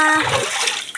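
Water is poured while bathing, a short splashing gush that drops off quickly within a second.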